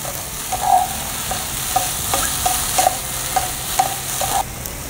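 Tofu scramble fries in a pan with a steady sizzle, while a utensil taps and scrapes the pan in a regular rhythm of short knocks, close and clear with no talking.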